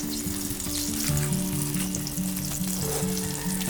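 Butter sizzles steadily in a frying pan for tortang talong, a close, continuous crackling hiss with no talk.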